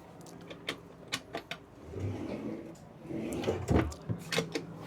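Several sharp wooden knocks and slides of drawers under a yacht's bench seat being pulled open and pushed shut, with a soft low rumble and shuffling between them, aboard a Menorquin 42 FB at a boat show.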